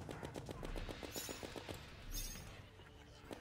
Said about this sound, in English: This is the candy corn rifle.